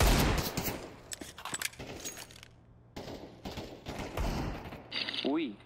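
Gunfire in Counter-Strike 2, with quick bursts of shots and mechanical clicks from weapon handling in uneven, choppy bursts, mixed with other game sounds at moderate loudness.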